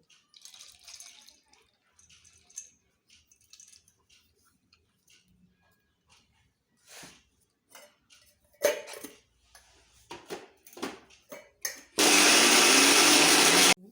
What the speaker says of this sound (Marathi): आपलं वाटण हे तयार झालेलं आहे, मिक्सरमधून बारीक करून घेतलेलं आहे